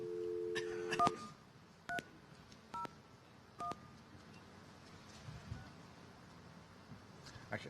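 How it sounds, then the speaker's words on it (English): DTMF telephone keypad tones sound on a conference stage: a brief cluster of dialing beeps, then three more separated single tones spaced about a second apart, clear over a quiet room hum. "I'll do the dialing, so you don't have to worry about that."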